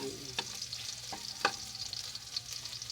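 Garlic sautéing in a pan for a mung bean vegetable dish, a soft steady sizzle with a few sharp stirring clicks against the pan, close and fairly quiet.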